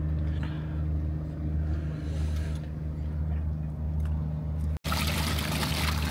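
Hot water from an electric kettle is poured into shower-warmed water in a steady, continuous pour with a gentle trickle over a low background hum, briefly cut off near the end, with no talking.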